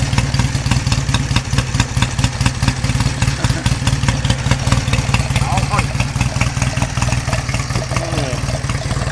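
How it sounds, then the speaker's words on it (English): A 1952 Royal Enfield motorcycle from a barn find idles close by with a loud, rapid, even thumping beat and mechanical clatter that runs steadily throughout. "Motor's not even that noisy up top like you think it would be."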